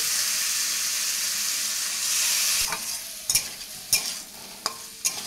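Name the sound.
stirring ridge gourd frying in pan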